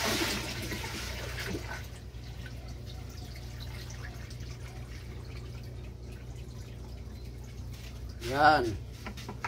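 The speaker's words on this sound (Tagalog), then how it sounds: "Walang magawa, mag-igib tubig." Water splashing and trickling as a container is filled while fetching water by hand, a steady low wash under a voice, ending with a brief louder slosh near the end.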